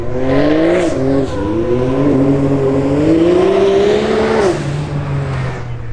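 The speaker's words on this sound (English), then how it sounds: "Look at Luke doing donuts" An expensive sports car worth over $300K roars as it spins donuts, its engine pitch sweeping up and down with a loud, close, continuous revving drone and a hint of tire noise.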